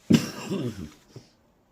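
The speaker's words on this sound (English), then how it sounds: "Excuse me for the coughing" A single harsh cough up close, followed by a rougher rasping trail and a small second catch before silence.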